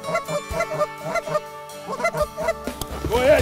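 Geese honking repeatedly during a goose hunt in Alberta, a dense chorus of overlapping honks close by and loud, continuing steadily throughout.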